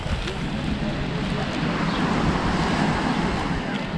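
Waves wash onto Es Canar beach in a steady loud surf wash with wind rumbling over the microphone, close and continuous with no clear voices.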